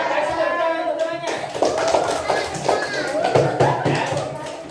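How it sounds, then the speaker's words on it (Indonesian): Schoolchildren in a classroom clap for a classmate, a loose scattered patter of small hands mixed with children's chatter and a speaking voice over it. "kasih tepuk tangan untuk temannya"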